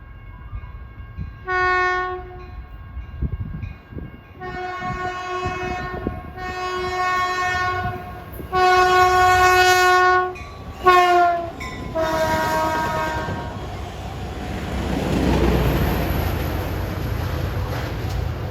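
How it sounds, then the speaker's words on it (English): Caltrain Baby Bullet train 707, the first northbound San Jose to San Francisco run, passing trackside with several loud multi-tone horn blasts in a broken series, then the fading rush of the cars. "they sound their horns for the first northbound Baby Bullet, San Jose to San Francisco, train 707"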